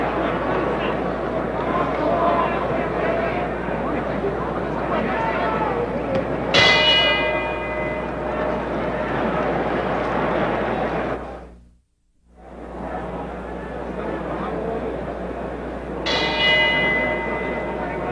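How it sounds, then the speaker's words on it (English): Boxing ring bell clanging for the start of round 8 in a George Foreman versus Gregorio Peralta fight, struck twice with ringing decay over a loud cheering crowd and commentary. "The bell for round 8."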